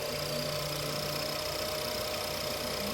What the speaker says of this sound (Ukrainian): І ось так у нас працює двигун